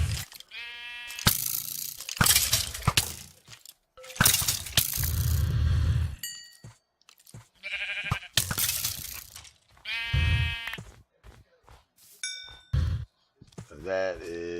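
Sheep bleating in Minecraft, heard as a few short bleats among game clangs, dings and clinks, with someone talking over parts of it.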